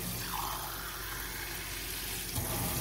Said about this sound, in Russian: Открываем холодную воду,